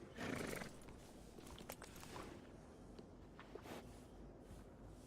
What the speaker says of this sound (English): That's a fine steed.